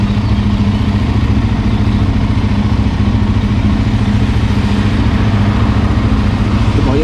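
A 2007 Suzuki LTZ 400 sport quad engine runs steadily and loudly up close, a continuous low throbbing drone with no speech.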